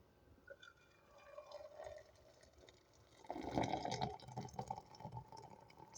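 Hot water from an electric kettle pours into a cup of tea, a soft gurgling trickle that swells into a fuller, louder splashing stream partway through, heard close and quiet without talk.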